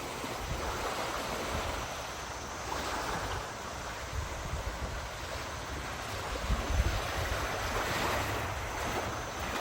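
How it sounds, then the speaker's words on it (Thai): Ocean waves wash up a beach in the morning, a continuous loud rushing surf with gentle swells and wind buffeting the microphone, and no voices. "อันนี้เป็นรอยคลื่นนะที่ค่อยๆซัดมานะ"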